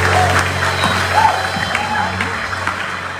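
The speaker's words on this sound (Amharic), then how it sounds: "አጨብጭቡላት" Guests at a church wedding ceremony applaud, a dense round of clapping from a crowd heard close, lasting a few seconds, with voices mixed in.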